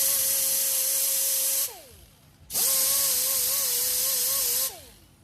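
An air-powered sanding tool blends the edges of a repaired car wheel rim, running in two loud, close bursts of high hissing whine that spin down between them.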